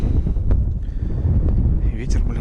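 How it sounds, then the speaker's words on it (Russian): Rising wind over a taiga lake buffets the microphone in a loud, low, continuous rumble, with a voice murmuring briefly under the gusts. "Ветер, блин, поднялся."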